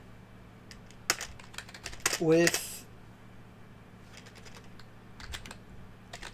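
Keys tapped on an external computer keyboard, with scattered clicks and a short burst of faster strokes midway, fairly close, while a voice speaks briefly.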